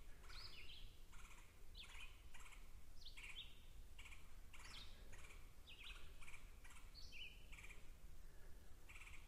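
A woodpecker with a white rump and red head, probably a red-bellied woodpecker, gives a series of short, sharp calls about once a second at moderate distance, over steady outdoor background hiss on a hike between lakes.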